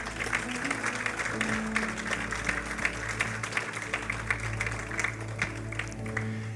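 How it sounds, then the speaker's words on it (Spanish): A church congregation claps loudly together for God during a Spanish-language service, a dense, steady wash of applause lasting several seconds over a sustained musical backing. "¿Cuántos pueden dar un fuerte aplauso a nuestro Dios?"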